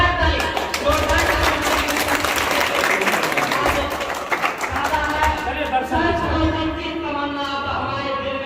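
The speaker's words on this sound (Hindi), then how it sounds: "आप सभी एक बार जोरदार ताली" At the inauguration of an ambulance and library, an audience claps steadily for several seconds in a dense, sustained round of applause, with voices and an announcer speaking over it.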